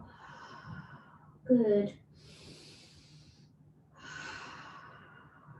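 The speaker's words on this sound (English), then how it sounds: "Taking 3 more rounds of breath in as you inhale and exhale." During a relaxation class, deep breaths are drawn in and let out slowly near the microphone: a sharp nasal inhale, then long airy exhales, with a brief spoken word in between.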